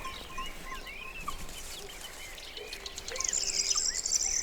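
A rooster mixes with a flock of chickens outdoors, giving scattered soft clucks and chirps over a steady insect hum, quiet and slightly distant, growing busier toward the end.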